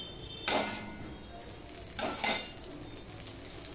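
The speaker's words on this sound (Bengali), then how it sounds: "এবার চালটাকেও আমি একটুখানি ভেজে নেব।" Rice being dry-fried in a kadai, giving short bursts of stirring and sizzling, one near burst early on, then a pair of louder scrapes and sizzles later, over a faint background hiss.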